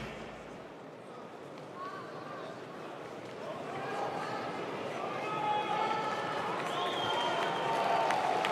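A dense crowd roars and claps at the Rkena cage event in Tbilisi as a fighter enters, the applause and cheering swelling steadily louder, with shouts and whistles rising over the din.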